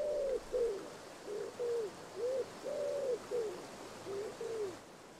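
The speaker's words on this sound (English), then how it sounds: "Wood pigeons are widespread on the banks of the river." Wood pigeons call from the riverbank in Sicily, giving repeated soft cooing phrases in an even rhythm, fairly close and clear over a quiet background with no voices.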